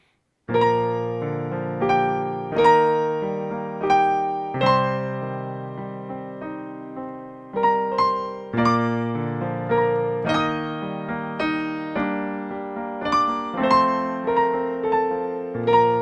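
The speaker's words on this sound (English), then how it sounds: "I really like that rolled octave sound." Solo piano plays a flowing melody with rolled octaves, each chord spreading upward in quick succession, steady and resonant with no voices.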